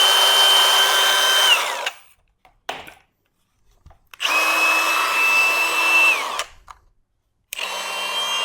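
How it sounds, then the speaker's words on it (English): A Milwaukee flathead angle grinder whines in two loud, sustained bursts of about two seconds each. Each run spins down with a falling pitch and is followed by a short quiet gap, and a third run starts near the end. "let's see if the grinder still works."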